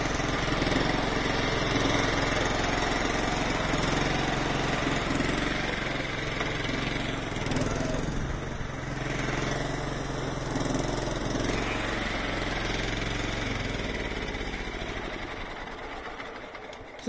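A John Deere riding mower engine running lean on an ethanol fuel blend, idling steadily with a faint surging in its drone, loud and close throughout, then easing slightly near the end.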